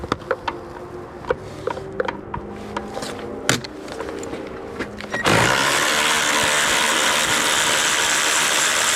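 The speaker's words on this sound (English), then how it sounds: "We're going to remove that with a 12mm socket and a long extension." A ratchet with a 12mm socket on a long extension loosens the battery mounting clamp on a 2020 Hyundai Elantra, giving scattered clicks and knocks followed by a steady, rapid ratcheting buzz at close range.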